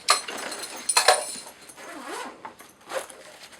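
Zipper on a weather-sealed Chrome Niko camera bag being pulled in several quick, close strokes, a sharp burst at the start and around one second, then softer zips and rustling with no talking.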